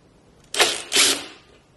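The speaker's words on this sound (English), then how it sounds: "let's undo this screw" A screw is undone on the top part of a pottery kick wheel, giving two short, close mechanical bursts of turning, each lasting under half a second, with no talk.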